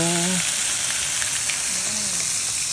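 Steady, dense sizzling of onions frying on a hot camping grill, close and loud, with brief voices speaking over it.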